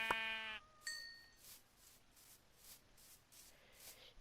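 Sheep bleating in the video game Minecraft, one clear bleat at the start followed by a second shorter call, then soft repeated shuffling footsteps in a quiet setting.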